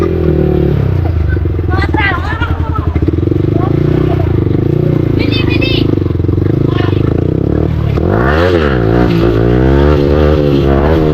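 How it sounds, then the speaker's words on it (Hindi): A motorcycle on a long group ride in Chhattisgarh revs hard for a wheelie, its engine loud and close, rising and falling in pitch. Voices talk over it throughout. "चलो भाई व्हीली मार के जाते हैं।"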